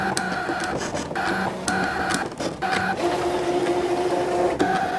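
Cricut Maker cutting machine working through a plasticized sheet, with a steady motor whir broken by short rhythmic mechanical buzzing bursts and carriage movements, close and continuous with no talk.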